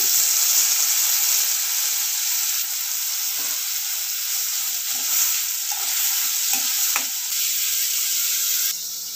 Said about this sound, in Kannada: ನೆಕ್ಸ್ಟು ಜೀರಿಗೆ ನೀಟಾಗಿ ಫ್ರೈ ಆಗಬೇಕು ಅದು। ಮೆಣಸಿನಕಾಯಿ ಹಾಕ್ಕೊತಾ ಇದ್ದೀನಿ।